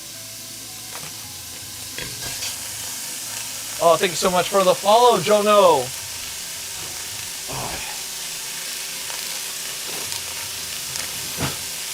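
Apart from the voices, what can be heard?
meat sizzling as it fries in a pot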